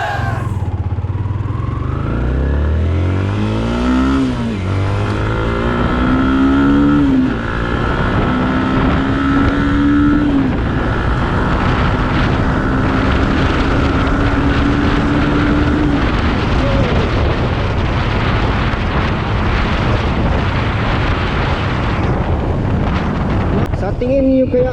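A 2019 Sniper 150 motorcycle accelerates hard from standstill in a 0 to 100 test, its engine note climbing repeatedly through the gears, heavily buffeted by loud wind noise close to the microphone.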